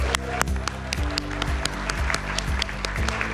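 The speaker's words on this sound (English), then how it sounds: "Please join me in giving a huge round of applause to our stellar awardees tonight." An audience at an awards celebration claps for the honorees, a dense steady applause with some sharper individual claps, close and loud throughout.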